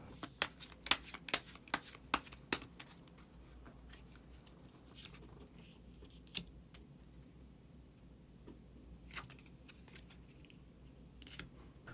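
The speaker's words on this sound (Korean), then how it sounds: "그러면 한 장의 카드를 더 뽑고 이야기 계속 나오도록 하겠습니다." Tarot cards being shuffled and drawn by hand, with a rapid flurry of crisp riffling slaps at first, then sparser single card flicks and rustles close up; no talking.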